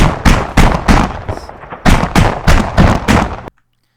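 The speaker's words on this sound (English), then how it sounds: "it's shelling that with its autocannon" An AI-driven vehicle's autocannon pounding a building in the Arma 3 video game: about ten loud, heavy booming shots in an uneven rhythm, close and punchy, ending abruptly in silence.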